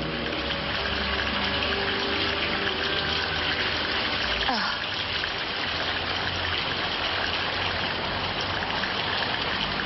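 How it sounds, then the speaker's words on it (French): Rain falls in a steady, dense hiss throughout, with a voice speaking over it. "Il y a même la pluie qui me poursuit alors qu'il y avait du soleil."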